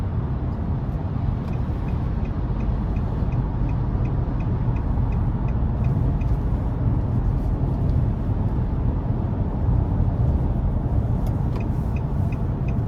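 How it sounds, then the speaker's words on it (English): 2023 Nissan Maxima SR exhaust heard from the cabin while driving: a steady, low engine drone with road noise, continuous and moderately loud with a faint repeating tick above it. "The sound you get from the exhaust"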